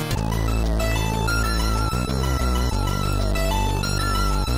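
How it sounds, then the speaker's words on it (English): An FPGA SID sound chip plays dense chiptune music, with rapid arpeggiated square-wave tones sweeping up and down over a steady, loud bass line. The sound is close and continuous, with no talking. "And right here we have the FPGA SID."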